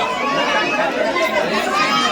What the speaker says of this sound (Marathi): भरपूर अशी गर्दी आहे इथं.